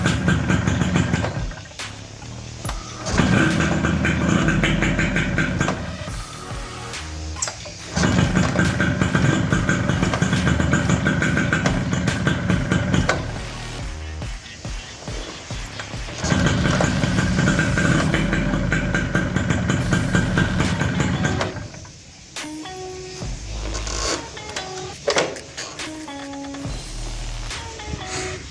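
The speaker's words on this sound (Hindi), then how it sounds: "जब मैं इसको स्टार्ट कर रहा हूँ, गियर डालता हूँ" A motorcycle engine starts and idles steadily, its rumble dropping out briefly and restarting a few times, close and loud throughout.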